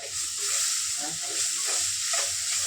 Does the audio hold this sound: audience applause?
no